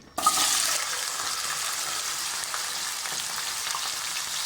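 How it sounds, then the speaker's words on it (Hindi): Taro root (arbi) pieces drop into hot oil and fry, a steady broadband sizzle that starts abruptly and stays loud and even throughout, with no talk. "अब इनको थोड़े से ऑयल में हल्का ब्राउन कर लें, फ्राई कर लें"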